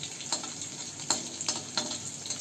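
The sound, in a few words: mustard seeds, cumin and crushed garlic sizzling in oil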